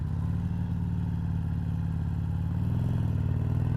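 A 2020 Harley-Davidson Sportster 1200 Roadster (XL1200CX) runs at a steady, close rumble while riding, with a low throbbing engine note that shifts slightly near the end as it brakes.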